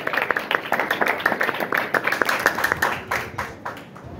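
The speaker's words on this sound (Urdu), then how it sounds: "زوردار تالیاں" A congregation at a church service applauds loudly, a dense patter of many hands clapping together for a few seconds and tapering slightly at the end.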